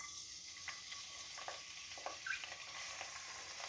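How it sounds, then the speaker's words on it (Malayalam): Chopped ginger and garlic sizzle in hot oil for a soya chunk fry, a faint, steady hiss broken by small clicks and crackles from stirring, with no one talking. "അപ്പം എണ്ണ ചൂടായിട്ടുണ്ട് നമുക്ക് ചെറു ഇഞ്ചി വെളുത്തുള്ളി ഇട്ട് കൊടുക്കാം"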